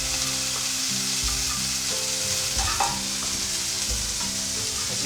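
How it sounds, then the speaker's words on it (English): Spinach cooking in a pan while an egg white omelette sets, an even close sizzle running throughout with occasional quiet stirring knocks and no voices. "now that it's starting to cook, I'm going to throw the spinach on"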